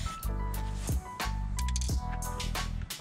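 A nearly empty spray can sputters in a garage beside a BMW E36, giving choppy hissing bursts broken by brief gaps over about three seconds, close and fairly loud.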